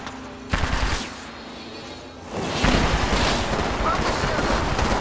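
Gunfire in a video game bursts in rapid volleys, with a sharp onset followed by a dense, sustained rattle of shots at moderate loudness, with no talking.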